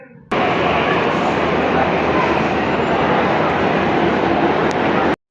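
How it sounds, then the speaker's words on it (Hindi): A Delhi Metro train running past at a station, a loud, steady roar and rumble that starts abruptly and holds for about five seconds before cutting off sharply. "तो जा रही है ट्रेन, इसके बाद जो आएगी वो हमारी ट्रेन होगी।"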